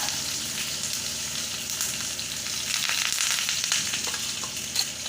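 Curry leaves sizzling in hot oil with mustard seeds, cumin and green chilli pieces, a loud, close, continuous hiss with crisp crackles that swell midway.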